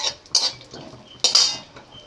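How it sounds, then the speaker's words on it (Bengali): Chopped almonds, walnuts and pistachios lightly fried in ghee in a kadai, with two sharp metallic scrapes or clinks of a spoon against the pan separated by quieter stirring, close and with no talk. "বন্ধুরা আমি অ্যালমন্ড বাদাম, আখরোট ও পেস্তা কুচি হালকা করে ভেজে নিচ্ছি।"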